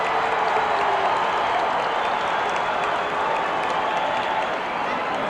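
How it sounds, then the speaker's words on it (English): A 1973 roller derby playoff crowd, MW Pioneers against the Jolters, roars and cheers in a steady, loud, unbroken wash of voices and applause for the full stretch. "They're cheering Buddy Atkins Sr."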